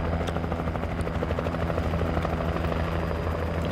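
Steady whirring drone of a helicopter in the video game Alan Wake, its rotor chop pulsing continuously and loudly throughout, with no voices over it.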